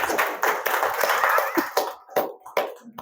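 Audience clapping at a Tamil spiritual gathering: a dense burst of many hands for about a second and a half, then thinning into a few scattered, separate claps.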